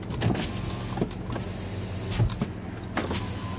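A 2019 Dodge Caravan SXT wheelchair mobility van's power window runs with a steady electric motor whine and faint creaks and clicks, close inside the cabin, no one speaking.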